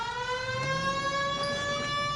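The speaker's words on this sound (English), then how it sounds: "Turn on the siren and pull her over." Wailing police car siren in the LA Noire video game, a steady electronic tone with strong stacked harmonics, sounding loud and close and continuous throughout with no talking.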